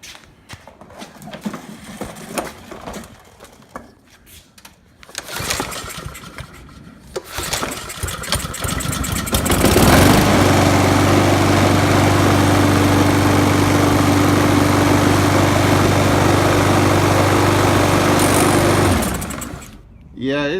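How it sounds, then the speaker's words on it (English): A TB-130 lawn mower with a bad blade, primed with carburetor cleaner, sputters a few times before catching and roaring into a loud, steady, shaking idle that runs for several seconds and then cuts off; a voice is heard during the early attempts. "what I just did was a common technique you need to do to get your lawnmower running"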